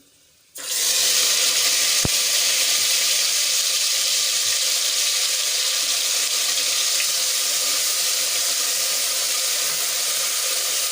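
Grated onion sautéing in hot oil with dried red chilli, star anise, a cinnamon piece and a bay leaf, a loud steady sizzle that starts abruptly and holds evenly to the end, with no talk.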